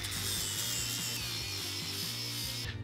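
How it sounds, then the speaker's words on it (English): Angle grinder fitted with a flap disc deburring the outside of a cut pipe end, a steady high whine with a repeating rhythmic grinding pulse, close and fairly loud, no talk. "Make sure to clean off the burrs on the outside of your pipe using a grinder and a flap disc."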